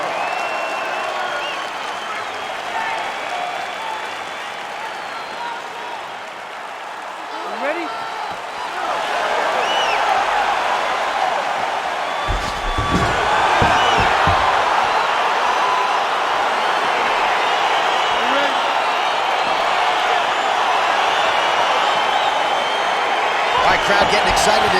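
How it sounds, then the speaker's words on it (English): A virtual arena crowd in the UFC 4 fighting game cheers and applauds, a broad, loud roar that swells as the bout begins, with a commentator's voice running over it. "Crowd getting excited as this fight gets underway"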